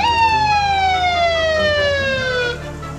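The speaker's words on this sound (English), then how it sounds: "Patrol car." A police patrol car siren sounds one long wail that slowly falls in pitch, loud and near, then cuts off near the end.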